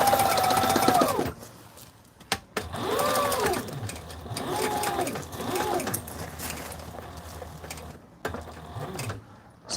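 A sewing machine stitches a flight suit in several bursts, its motor whirring up and slowing in rising and falling sweeps with short pauses between runs, loud and close.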